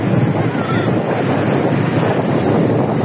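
Sea waves roll onto the beach at Cox's Bazar, a steady, dense wash of surf mixed with wind rush on the microphone, loud and unbroken for the whole stretch.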